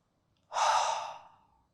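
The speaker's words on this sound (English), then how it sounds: "you're going to breathe in through the nose and out through the mouth" One soft, breathy exhale through the mouth, like a slow relaxing sigh during a calming breathing exercise, close and isolated in quiet.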